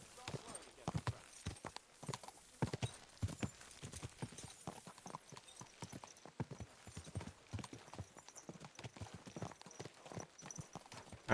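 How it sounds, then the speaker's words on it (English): Horse hooves clip-clop steadily while riding in the Kingdom Come Deliverance 2 video game, a brisk, continuous rhythm of close hoofbeats with voices talking over it. "Is this your first time riding a horse?"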